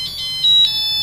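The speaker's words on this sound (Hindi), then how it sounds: "ये अलार्म बज गया जी कि पिज़्ज़ा आपका तैयार हो गया।" An oven timer alarm signals that a pizza is done: a run of short, high electronic beeps in quick succession, moderately loud and close, with no voices.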